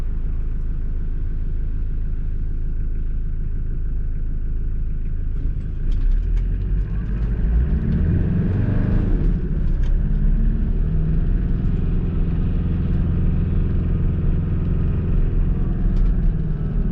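A car driving on the road in winter, a steady low engine and tyre rumble throughout that swells somewhat louder midway and stays close, no talking.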